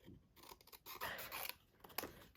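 Scissors snipping through paper while trimming a panel for a shaker card, a few close, crisp cuts in quick succession, with no talking.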